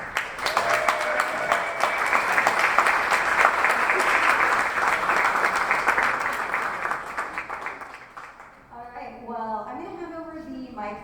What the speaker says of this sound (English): give a big round of applause for everybody that's about to come up